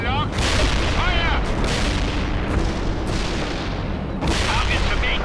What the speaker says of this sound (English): The artillery strike hits the enemy.